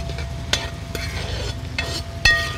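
Ginger, garlic and green chilies sautéing in oil in a pan after mustard seeds have popped, while cooking Kerala-style tuna fish pickle; a soft, steady sizzle with occasional stirring clinks and scrapes, no talking.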